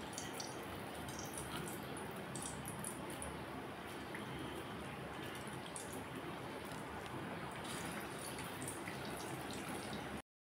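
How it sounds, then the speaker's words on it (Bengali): Jackfruit koftas sizzle in hot oil, a dense, continuous crackling and bubbling hiss that stays loud and even throughout with no talking over it. "অপর পিঠও আমি একইভাবে ভেজে নিচ্ছি।"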